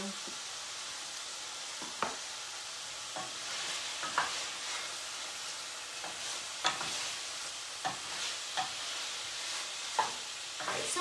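Sausage browning in a pan, a soft continuous sizzle with scattered sharp pops and crackles, close and quiet, no one speaking.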